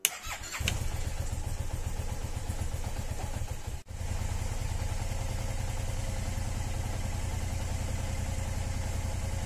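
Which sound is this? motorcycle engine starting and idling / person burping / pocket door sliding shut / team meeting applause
motorcycle engine starting and idling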